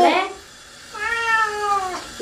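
A cat meows during a bath, with a short cry at the start and a longer drawn-out, wavering meow after a pause, close and clear.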